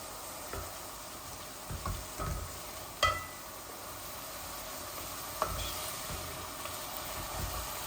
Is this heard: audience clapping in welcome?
no